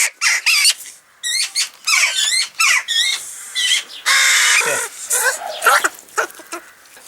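Fledgling birds at a wildlife rescue centre give repeated squawking, chirping calls in dense overlapping bursts, loud and close, with a voice briefly speaking among them.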